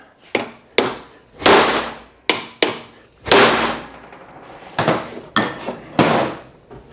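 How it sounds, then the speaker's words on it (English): Hammer blows striking a part on a Husqvarna riding mower with a Honda engine: about nine sharp, loud metallic whacks in an uneven rhythm, some in quick pairs, each ringing briefly before the next. "So we're gonna give her a couple of whacks right here"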